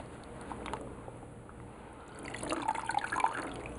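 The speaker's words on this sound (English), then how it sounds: "Just squeezing out all the excess dye." Wet liquid squelches and drips as excess dye is squeezed out of tie-dye shorts, soft at first then rising into a burst of splashy dripping near the end.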